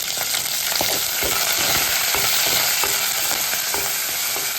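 Dried red chillies and curry leaves sputter in hot oil for a tempering, a steady loud sizzle with crackling pops and stirring scrapes throughout, no voices.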